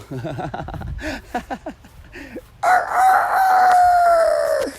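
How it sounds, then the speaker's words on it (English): A rooster crows loudly and close by, a long drawn-out call following a few shorter clucks and calls. "might as well end the rooster call"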